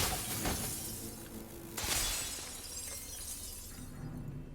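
Glass shattering in the stealth video game Dishonored 2, with two sharp crashes followed by tinkling debris, loud and close with no talk.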